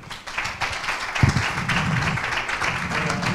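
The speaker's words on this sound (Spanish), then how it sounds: "un aplauso para Enrique" Audience applause at a bullfighting festival presentation in Nerva, welcoming the bullfighter Enrique, as a steady wash of clapping that carries on throughout at moderate loudness.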